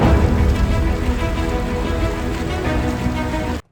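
Rain beginning to fall during a boat outing, a dense, steady hiss that holds evenly loud for several seconds before cutting off abruptly.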